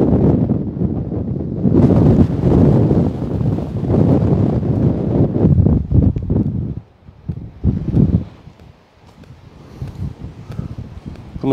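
Strong outdoor wind buffets the microphone and shakes young saplings, loud roaring gusts with rustling that drop away after a few seconds into quieter, intermittent puffs.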